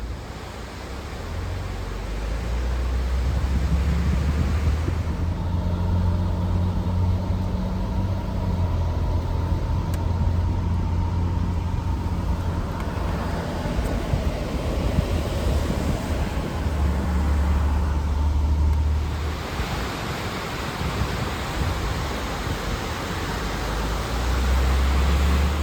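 A car rolls along a mountain road, its steady engine drone and tire rumble filling the cabin, with a low hum that swells and eases over the stretch.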